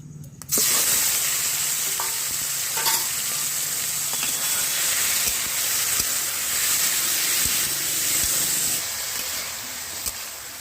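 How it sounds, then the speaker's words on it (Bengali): Marinated chicken dropped into hot mustard oil for a dhaba-style chicken tadka, frying with a loud, steady sizzle and hiss that holds for the whole stretch, broken by occasional stir clicks. "তেল গরম হয়ে গেছে। এখন আমি ম্যারিনেট করে রাখা মাংস দিয়ে দিচ্ছি।"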